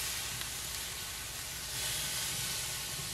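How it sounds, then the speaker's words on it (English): Steady, loud sizzling hiss of pork on a hot Pit Barrel Cooker smoking with applewood, continuous and close, with no voices. "Now, sizzle, sizzle."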